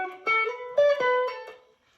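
An electric guitar plays a short melodic lick from a solo, with about four picked notes ringing clearly alone around the D and fading out at the end.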